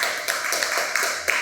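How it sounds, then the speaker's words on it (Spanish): A church congregation claps loudly for Jesus during a sermon, a dense continuous patter of many hands with a few sharper peaks, close and steady with no talking over it. "Den un fuerte aplauso a Jesús, por favor."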